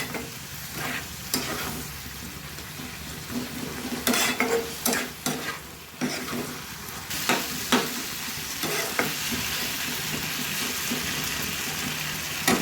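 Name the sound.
sautéing Bhola fish curry masala with potatoes and water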